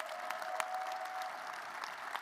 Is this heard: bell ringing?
no